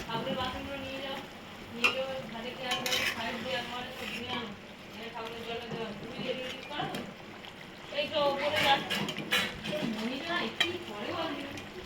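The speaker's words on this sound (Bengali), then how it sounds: "তো আমার মাছের ঝোলটা ফুটে গেছে, এবার আমি একে একে মাছটা দিয়ে দেবো।" Tilapia pieces go one by one into a boiling fish curry in a pot, with a soft sizzle and bubbling running underneath a person talking throughout.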